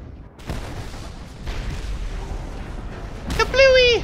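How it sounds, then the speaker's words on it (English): Explosions destroying fuel pumps in the Mad Max video game: several loud booming bursts hit at intervals, followed by a sharp whistling, warbling game effect at the end. "An explosion is required."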